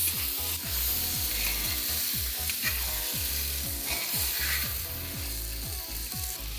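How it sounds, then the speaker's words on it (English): Marinated mutton frying on a high flame, a loud, steady sizzle with rhythmic scraping and stirring strokes against the pan repeating throughout. "Now simply fry the mutton on a high flame for 5 to 6 minutes."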